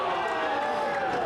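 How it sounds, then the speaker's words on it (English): Wrestling crowd at a Ryse Wrestling tag team match, a steady roar of cheering filling the whole brief moment, loud and continuous. "And the crowd's actually cheering for this?"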